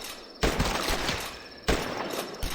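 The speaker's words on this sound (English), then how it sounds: "Eat the rifle rounds." Rifle fire aimed at zombies in the game The Last Stand, with two loud bursts of rapid rounds, each starting abruptly and then trailing off, set against a quiet background.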